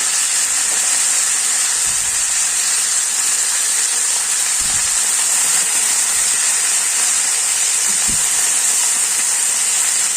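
Fenugreek greens with leftover water sizzle in a pan with a loud, constant hiss, broken by a few soft pops and bubbling bursts.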